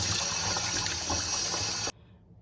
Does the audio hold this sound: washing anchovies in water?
yes